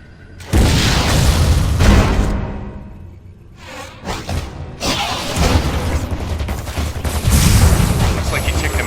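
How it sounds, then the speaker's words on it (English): A missile launched and exploding in the Wii video game Metroid Other M: heavy booming blasts with rushing whooshes, loud and dense, a brief lull midway before another sustained roaring burst. "Why not say hello with a missile?"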